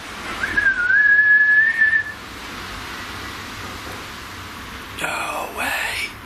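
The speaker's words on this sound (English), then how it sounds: "If I whistle, will you be able to whistle back for me?" A person gives a single sustained whistle, rising slightly then holding steady for about a second and a half, inside an old mill, followed by quiet room hiss and a brief breathy rustle near the end.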